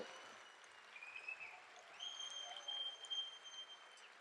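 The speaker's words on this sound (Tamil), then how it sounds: "இன்னும் ஒரு முறை அனைத்து கவிஞர்களுக்கும் நம் கவிஞர் ஸ்நேகன் அவர்கள் ஒரு பலமான கைத்தட்டல்." Audience applause for poets at a Tamil poetry recital (kaviarangam) convention in Raleigh, a fairly faint, steady patter of many hands with some whistles and tonal background sounds mixed in, distant in the hall.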